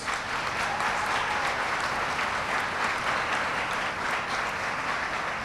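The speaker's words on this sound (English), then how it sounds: "Let's give them yet another round of applause" Steady, dense applause fills the room at a heritage month reception, a broad wash of many hands clapping evenly for several seconds with no voices over it.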